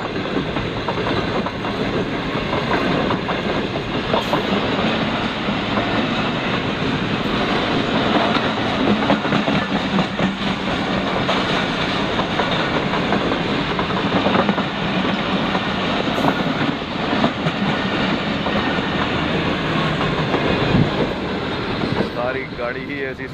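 Passenger express train running on the tracks in Pakistan, a steady loud rolling rumble with rhythmic clickety-clack from the wheels throughout, with no voices over it.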